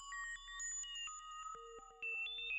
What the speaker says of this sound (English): So that's meant to be a sine wave